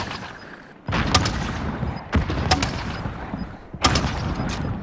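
Grenade launcher fire in the shooter game Warzone, an MGL-32: a few heavy thumping launches and booms at about one, two and a half and four seconds, each followed by sustained rumble and clatter.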